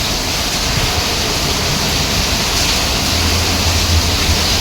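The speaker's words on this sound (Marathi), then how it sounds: "पाऊस बघा एकदम भयंकर सुटला आहे" Heavy rain driven by strong wind pours down steadily in Mumbai, a loud, dense, unbroken roar with no gaps and no voices.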